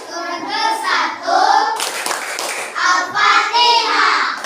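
Children clapping their hands in rhythm during a clapping chant for Surah Al-Fatihah in a classroom, with their voices chanting loudly over the claps throughout.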